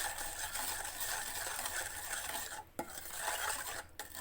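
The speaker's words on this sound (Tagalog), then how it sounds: "I-mix natin." Pandesal ingredients being mixed in a pan make a quiet, continuous scraping and stirring with a few faint clicks of utensil on metal, with no talking.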